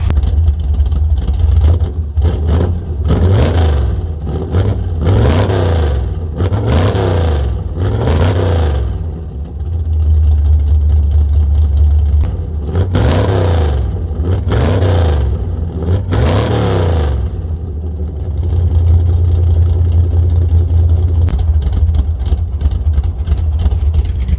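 Truck engines running after a cold start on dead batteries, a loud, steady low rumble with repeated revs rising and falling, close up and without talk.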